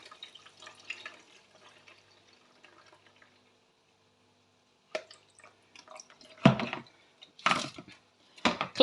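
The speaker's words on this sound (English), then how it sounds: "I'm going to just drain the water." Water draining off rinsed rice in the kitchen, with faint trickling at first, then a pause and louder sporadic splashes and drips close by.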